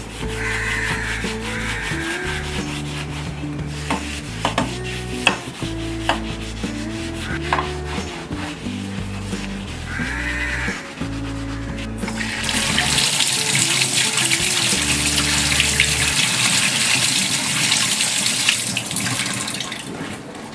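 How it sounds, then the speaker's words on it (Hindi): Brass plate being cleaned with liquid dish wash: rhythmic scrubbing and rubbing strokes up close, then a loud, steady rush of tap water as it is rinsed. "हम इसे अब लिक्विड डिश वॉश से भी क्लीन कर लेंगे।"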